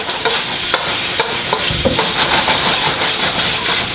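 Eggs and garlic stir-frying in a hot pan for fried rice, a steady close sizzle and hiss broken by repeated scraping and clattering stirs of the spatula, with no talking.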